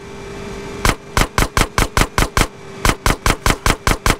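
Rapid bursts of automatic gunfire in GTA San Andreas as a sewer gate gets shot out, a dozen sharp evenly spaced shots in two quick runs, loud and close over a low engine hum.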